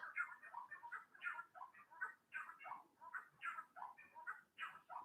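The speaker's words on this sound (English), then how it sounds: "They're called chakalayas because they go chakala, chakala, chakala, chakala." Chachalaca birds call at night in a rhythmic, repeated chattering chorus, faint and somewhat distant, with harsh syllables pulsing in regular bursts throughout.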